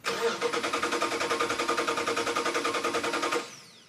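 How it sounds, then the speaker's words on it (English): A 1970 Plymouth Barracuda's freshly assembled 392 Hemi V8 cranks on the starter in a fast, even rhythmic chug that keeps going for over three seconds without catching, then stops abruptly and leaves a brief fading whine. "get that engine running"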